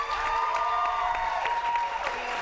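Audience applause at a Gen Con 2019 gaming convention panel, a dense wash of clapping hands from a crowd that holds at steady volume throughout, with no voices rising above it.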